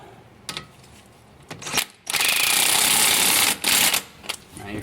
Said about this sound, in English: Pushing in on the rotor, tighten up that top bolt.